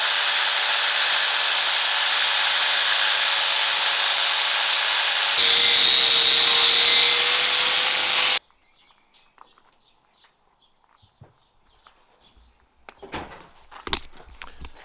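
Flap disc on an angle grinder working over plasma-cut steel edges for a winch tray, a loud steady broadband whine for about eight seconds that stops abruptly, followed by quiet room tone with scattered light clunks.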